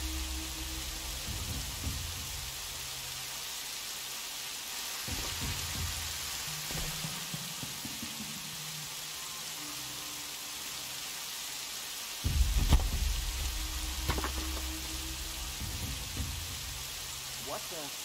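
Rain falls in Horizon Zero Dawn, a steady even hiss throughout, with a few scattered low thumps and a brief louder burst near the end.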